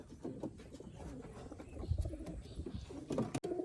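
Soft cooing from two adult pigeons and two squabs in a loft, faint and indoors, repeating in low bursts among light rustling and shuffling.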